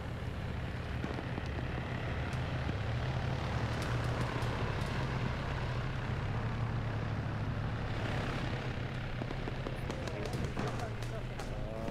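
Helicopter rotor and engine drone in an Arma military video game, a steady low continuous roar throughout with people talking over it.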